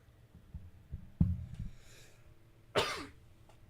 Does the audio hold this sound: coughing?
yes